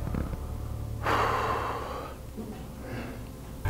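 A person doing shoulder stretches draws one deep, audible breath, a sharp inhalation followed by a slow, fading exhale, heard close up and alone.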